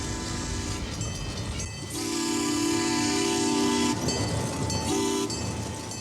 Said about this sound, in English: Climb aboard the Green Mountain Flyer as it departs from Bellows Falls on a beautiful, scenic, and relaxing 26-mile train ride